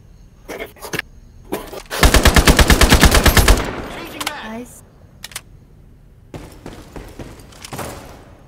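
In the online shooter Ironsight, an AK-12 rips off a loud sustained automatic burst near the middle, with scattered single shots and game effects around it and voices talking now and then.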